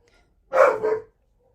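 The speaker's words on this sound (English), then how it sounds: "That's my dog." A dog gives a single close, loud bark, a short two-part woof in an otherwise quiet room.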